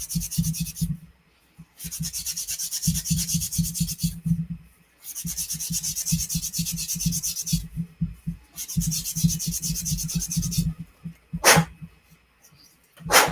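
Rhythmic rubbing strokes of a sanding sponge on a plastic Bandai Gundam tank model kit, steady back-and-forth bursts with short pauses between passes, close and fairly loud.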